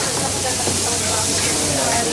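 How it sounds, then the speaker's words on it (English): Carrot and onion fry in a pan during a cooking demonstration, giving a steady, close sizzling hiss that runs unbroken for the whole two seconds with a low hum beneath. "So just frying that off very quickly."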